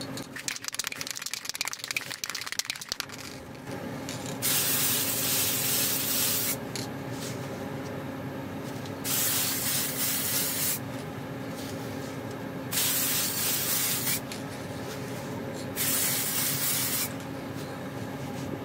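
Aerosol spray paint applied to a steampunk kraken gauge kit part in a series of long, steady hissing bursts separated by short pauses, close and fairly loud after some initial handling noise.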